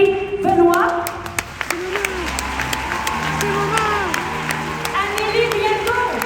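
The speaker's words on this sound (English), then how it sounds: "Alors, je vous demande d'applaudir chaleureusement Oh, yeah. Valérie Benoît," An audience claps warmly at an event, a steady wash of applause with a few cheers, heard beneath a person's voice speaking over it.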